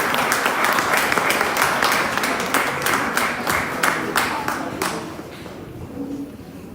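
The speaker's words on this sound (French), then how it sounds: "Sous vos applaudissements, mesdames et messieurs." An audience applauds at a ceremony as a minister counselor is welcomed: brisk, crowded clapping with crisp individual claps, holding strong for about five seconds before thinning out and fading.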